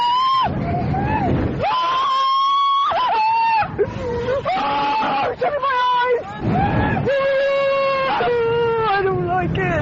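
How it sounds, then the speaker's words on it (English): A woman screams repeatedly on a roller coaster, long shrill wails rising and falling in several bursts with brief breaks, loud and close, with crowd babble faintly beneath. "here's Roller Coaster Girl, just isolated, just a scream part as we go to break."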